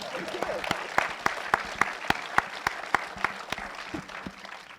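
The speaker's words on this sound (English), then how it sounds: "Round of applause, ladies and gentlemen." Applause from a crowd at a film Q&A event, with a dozen or so sharp, distinct claps standing out above a dense wash of clapping and a faint murmur of voices.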